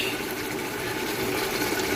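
Water poured into a cooking pot while making chicken mandi, a steady, continuous rushing and splashing stream, close and fairly loud, with no talk over it.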